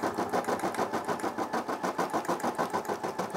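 A Brother SE600 embroidery machine stitching around the outline of a bag, a fast, even mechanical chatter of needle strokes pulsing steadily and close.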